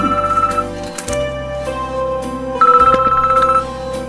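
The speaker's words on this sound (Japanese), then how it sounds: "あ、電話じゃん。" A telephone rings loudly and close by indoors, repeated trilling bursts over a steady background hum, with no talking during the rings.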